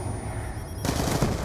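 Gunfire from the video game Black Ops 2 in a multiplayer match, a dense, steady burst of rapid shots that starts abruptly partway through and keeps going loud to the end, over game noise.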